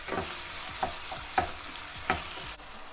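Chopped onion frying in a pan with oil, a steady sizzle running throughout, broken by four sharp scrapes and clacks as it is stirred at roughly even intervals; close and fairly loud, no voices.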